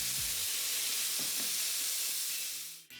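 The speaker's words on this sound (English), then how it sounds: "And in goes our marinated strips. Let the beef stand for just a couple of seconds to let it colour nicely." Marinated beef strips for fajitas sizzle loudly and continuously in a hot pan, a dense close hiss with faint clinks, fading out at the end.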